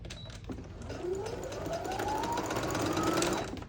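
A home sewing machine straight-stitching down the neckline fold of a summer dress, a rapid steady whirring motor with a rising and falling pitch, close and continuous for a few seconds.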